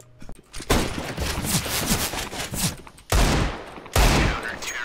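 Rapid bursts of gunfire from a video game firefight ring out in close, loud volleys separated by brief gaps, with no talk.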